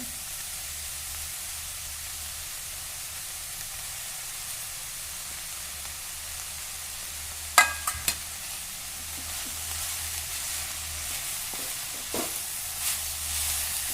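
Potato pieces for a veg sandwich frying in a pan, giving a steady soft sizzle. A couple of brief scraping stirs come through partway, close and quiet with no talking.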